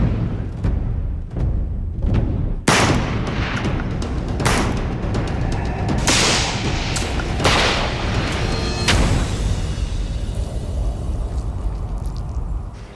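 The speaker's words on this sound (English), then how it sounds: "let's move on to the last type of ammo. With a shotgun slug this time." A shotgun fires slug rounds into a turkey target, giving a series of heavy, booming reports spaced a second or two apart, each a loud, sharp blast with a rumbling tail and no talking.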